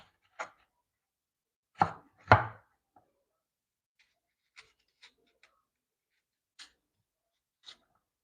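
A knife chops through a freshly harvested apple with a few crisp, close cuts, two stronger ones close together, then fainter isolated taps and clicks spaced out against silence.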